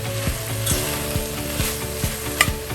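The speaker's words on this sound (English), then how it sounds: "So stir them up. And they are still under a medium-low heat." Ingredients for a carrot ginger chicken noodle stew sizzle in a pan over medium-low heat, with a spatula scraping the pan in repeated, evenly spaced strokes under a constant, close frying hiss.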